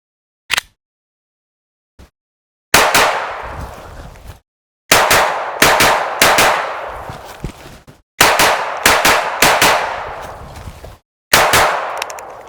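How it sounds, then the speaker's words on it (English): Gunshots from a .22 and a 9mm handgun ring out at a range: two lone early cracks, then bursts of rapid loud shots with ringing tails and short pauses between strings. "do some shots both with a 22 and with 9mm"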